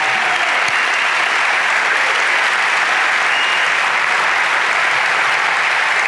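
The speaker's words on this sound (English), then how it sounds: "That's the cue for the raucous applause" Loud, sustained applause from a large keynote audience at the Christian Alliance for Orphans Summit in Chicago, dense steady clapping with faint crowd noise, continuing without a break.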